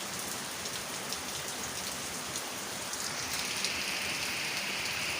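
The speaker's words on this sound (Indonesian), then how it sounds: "sangat besar hujannya teman-teman ya," Heavy rain pours steadily onto a flooded main road in Leuwiliang, Bogor, a dense, unbroken hiss with scattered drops spattering close by and no voices.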